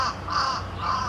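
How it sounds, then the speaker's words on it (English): A crow calling close by outdoors, three harsh caws in quick succession, loud and alone. "Oh, that bird was so close."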